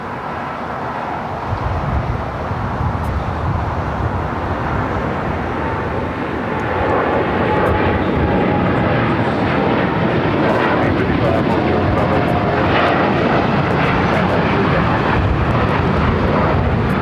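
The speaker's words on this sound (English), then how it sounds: "got that Dreamliner with American now rolling down" An American Airlines Dreamliner jet rolls down runway 25 right at LAX, its engines building into a loud, broad roar that swells and holds, with someone talking over it.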